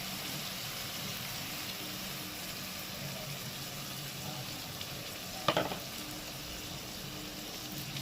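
Mustard paste fries in hot oil with a steady, soft hiss and sizzle, broken once by a brief clatter of stirring, no voices present.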